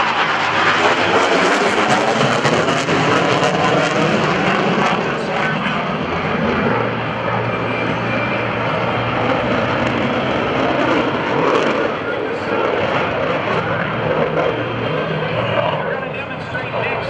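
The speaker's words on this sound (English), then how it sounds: "the ability of this big, noisy airplane to surprise an enemy" An F/A-18F Super Hornet roars overhead at an airshow, a loud, sustained broadband rush that holds steady and fades slightly near the end.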